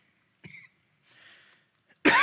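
A man coughs sharply during a sermon, two short coughs separated by a pause, the second one loud and close, with a faint breathy sound between them.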